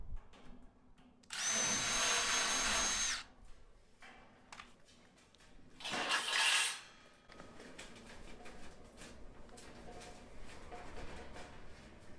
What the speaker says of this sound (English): all I need to do is drill out those 2 rivets that I put in there